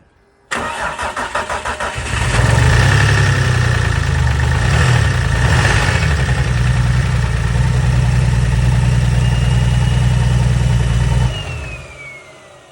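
A turbocharged BMW S52 engine in an E46 cranks, catches and runs loud and near at a rough steady idle after a brief rev, while a tack-welded exhaust dump pipe rattles against the fender, until it shuts off near the end.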